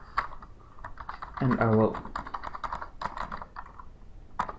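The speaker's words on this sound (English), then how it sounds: "type the text happy birthday" Typing on a computer keyboard while working in TactileView tactile graphics software, a run of light, quick clicks spread through the clip under a man's speech, close and moderately loud.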